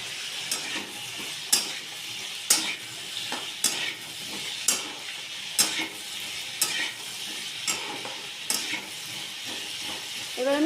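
Rohu fish heads fry in a pan under a steady sizzle while a spatula scrapes and stirs them in regular strokes about once a second, crushing them to crumbs; close and fairly loud with no talking.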